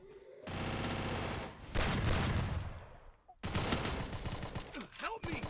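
Rapid automatic gunfire from friendly fire in the mobile shooter Free Fire Max rattles in dense loud bursts, with a short pause in the middle before another long volley.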